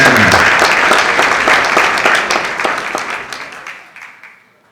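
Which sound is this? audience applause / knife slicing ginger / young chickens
audience applause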